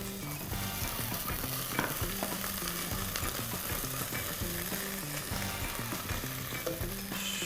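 Ginger garlic paste fries in hot oil with onion and crisp curry leaves, giving a dense, continuous sizzle and crackle up close, with frequent stirring scrapes and knocks of a spoon in the pan.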